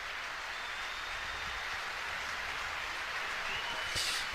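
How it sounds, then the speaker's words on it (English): Arena crowd at the NCAA wrestling championships applauds steadily as an injured wrestler is carried off on a stretcher, a dense, continuous wash of clapping and cheering that swells slightly near the end. "Crowd with a standing ovation for him."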